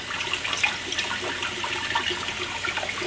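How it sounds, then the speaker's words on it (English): Beef broth pours steadily into a pot on the stove, a continuous watery rush and splash with no talking. "I'm going to dump the beef broth into the pot to get this warming up."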